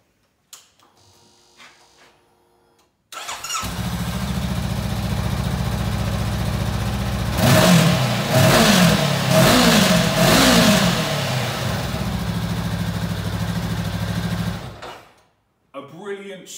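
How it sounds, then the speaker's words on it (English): A Honda CBR500R ABS motorcycle fires up after a brief quiet moment, idles with a steady mid-pitched drone, then rises through several quick sharp revs before settling and cutting off, loud and close. "A brilliant sporty engine sound with the pickup on the revs."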